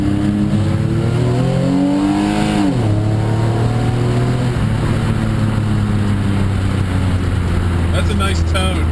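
A car engine revs loudly through an open Varex muffler, a deep droning exhaust that rises and falls in pitch, with sharp crackling backfires near the end; close and continuous.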